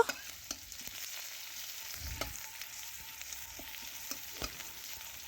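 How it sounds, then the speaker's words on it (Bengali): Crushed garlic fries in oil with a dried red chilli while a Bengali poppy-seed jute-leaf curry is made, giving a steady soft sizzle broken by scattered stirring clicks and taps. "রসুন একটু ভেজে নেব।"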